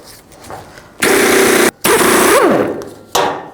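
Loud bursts of ratcheting and whirring as a power tool with a 15mm socket spins a rusty rear shock nut off a 2010-16 Buick LaCrosse, two long runs split by a brief pause, then a short final burst.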